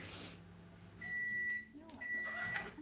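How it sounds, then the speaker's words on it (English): A running microwave oven hums and gives two sustained electronic beeps, each about half a second long, with a faint voice in the background. "Can you hear the microwave?"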